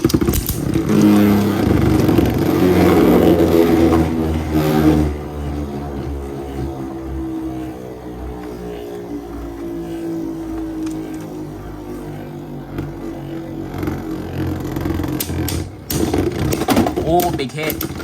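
Beyblade Burst tops, including a Divine Belial Nx.Ad-3 with retractable rubber, spinning and colliding in a plastic stadium, a sustained whirring hum with sharp clashing hits, heard under continuous speech.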